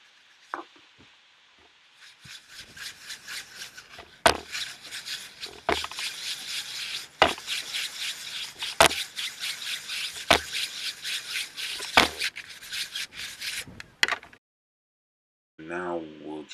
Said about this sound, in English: So here you'll see me using a sort of circular motion lightly on that rotor just to get past that glaze